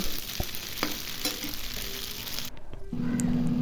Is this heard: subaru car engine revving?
no